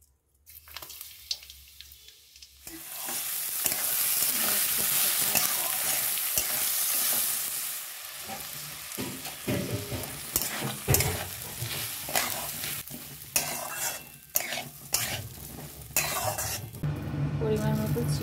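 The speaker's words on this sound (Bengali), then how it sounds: "পোলাও বানাবো, তাই কড়াইতে ঘি গরম হচ্ছে।" Ghee heats and sizzles in a kadai for pulao, a continuous close frying hiss broken by clinks and scrapes of a utensil against the pan.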